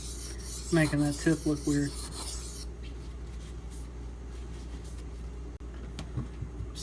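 A knife is sharpened on a sharpening stone with steady rasping strokes that grind on after a voice speaks briefly over them, then thin into faint scraping and a soft knock.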